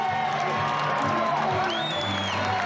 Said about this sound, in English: They're standing here and they're applauding a champion.